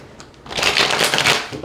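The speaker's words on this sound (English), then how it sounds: "One more shuffle." Tarot cards are shuffled close up, a quick riffling flutter after a brief quiet start.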